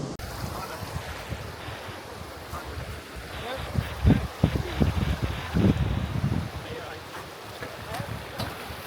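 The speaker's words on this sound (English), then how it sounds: "We just got to the black sand beach here." Ocean surf washing onto a black sand beach in Iceland, a steady roar of waves and wind with louder surges breaking midway through, heard up close with some wind buffeting the microphone.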